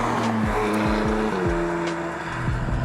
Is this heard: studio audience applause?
no